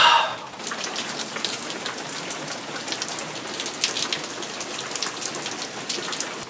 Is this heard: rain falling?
yes